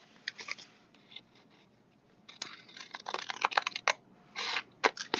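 Scissors trimming paper card stock for a slimline sunflower card, giving bursts of crisp close snipping and rustling paper, sparse at first and then a quicker flurry of cuts, with no talking.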